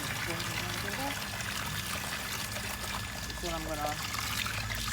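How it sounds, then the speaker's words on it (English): Water trickles and pours steadily into a container close by for washing clothes outdoors in Jamaica, with a person speaking briefly over the running stream. "fill up the water."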